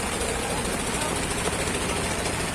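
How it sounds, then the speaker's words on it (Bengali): Trawler boat engine at a river ferry ghat in heavy rain, a loud, dense, steady throbbing drone that fills the short stretch without a break. "একটা ট্রলার ভিড়লো।"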